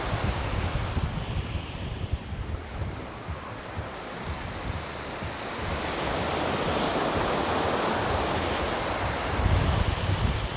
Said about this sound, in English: There really is a pretty good little wave coming in.